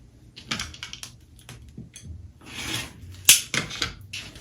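A rotary cutter runs across quilt fabric against a ruler on a cutting mat: a short rolling swish amid close clicks and taps of handling, then a sharp snap and more light rustling, with no voices.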